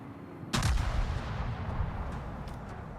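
Battleship turrets in World of Warships fire a heavy shell salvo, one sudden loud boom followed by a long rumbling roll that fades slowly, with a few faint distant thuds afterward.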